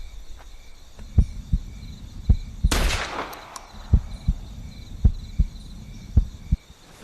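A single sharp rifle shot cracks out at a bison in Hunting Simulator 2, a loud burst with a short decaying tail, set among regular soft thudding footsteps.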